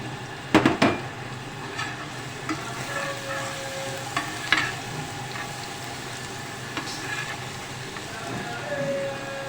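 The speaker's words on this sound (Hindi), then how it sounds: "अब ये मिर्च हमारी फ्राई हो रही है।" Chilies fry in oil with garlic and ginger: steady sizzling in a pan with a few clanks from a utensil at the start, frying quietly beneath occasional faint sounds.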